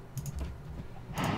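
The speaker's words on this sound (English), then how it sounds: "I have a new keyboard, by the way, so you might be able to hear it a bit more than usual." Mechanical computer keyboard typed on during Minecraft play, a few soft clicking keystrokes in quick bursts, quiet and close with no talking.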